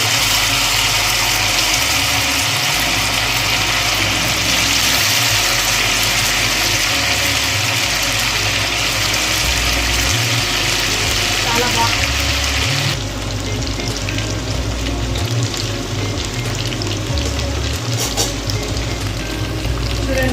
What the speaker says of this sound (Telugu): చూడండి ఆయిల్ బాగా కాగిపోయింది ఇప్పుడు నెత్తాలు వేసుకుంటాం